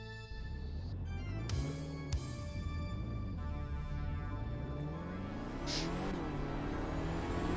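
Game car engine in Roblox droning and revving steadily, pitch rising and falling as it accelerates, with a brief skid-like burst and a high whine near the end, continuous and close throughout.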